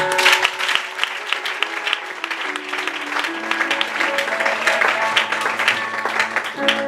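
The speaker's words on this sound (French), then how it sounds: "Est-ce que quelqu'un peut acclamer le Seigneur?" A church congregation breaks into sustained applause for the Lord, a dense, steady clatter of many hands filling the room, with a sustained musical tone underneath.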